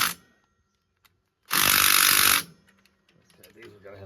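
A cordless drill spins hard for about one second in a single loud, close burst while loosening bolts on the brakes of a Jayco Jay Flight travel trailer. Quiet workshop sounds surround it.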